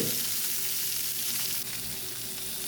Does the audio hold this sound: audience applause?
no